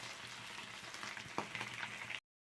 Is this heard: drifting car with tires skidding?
no